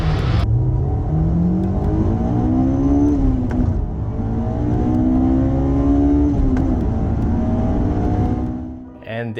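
A Honda sports car engine revs hard toward its 9,000 RPM redline, climbing loudly through repeated rising sweeps, dipping once in between, then easing off and fading.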